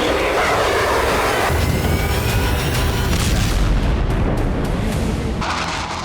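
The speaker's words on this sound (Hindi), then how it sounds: "लेबनान से लगती सीरिया बॉर्डर पर जबरदस्त धमाके किए जा रहे हैं।" Heavy blasts and rumbling from Israeli bombing near the Lebanon–Syria border form a loud, continuous roar, with deep booms and what sounds like aircraft overhead, and no talking.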